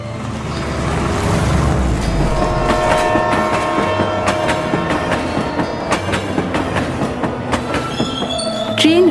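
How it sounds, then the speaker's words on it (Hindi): A train runs steadily along the rails with a continuous rumbling roll, rhythmic clickety-clack from the wheels and occasional metallic squeals and tonal whines, loud and close throughout, with no voices. "ट्रेन हवा से बातें करती हुई उनको गांव के स्टेशन पर पहुंचा देती है"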